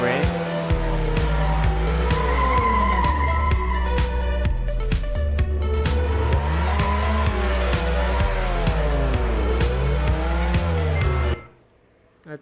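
Race car engine roaring through repeated gear shifts in the Heatwarped racing video game, with rising and falling revs and tire squeal, loud and continuous for about eleven seconds before cutting off.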